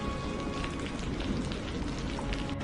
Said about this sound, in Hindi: बाहर मूसलाधार बारिश, ठंडी हवा और अंधेरा।